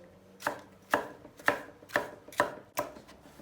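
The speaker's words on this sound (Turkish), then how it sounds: "Önce biberlerimizi çok iri olmayacak kuşbaşı şeklinde doğrayacağız." A knife chops peppers on a cutting board in six evenly spaced strokes, crisp and close, with no talking.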